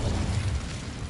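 Incendio fire spell cast in Hogwarts Legacy, a dense roaring whoosh of flame, loud and continuous for about a second with a heavy low rumble.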